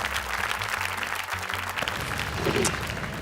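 Applause from a studio audience at a family television show, a dense, steady wash of clapping filling the whole short stretch.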